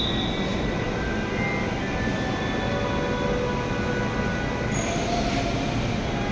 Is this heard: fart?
no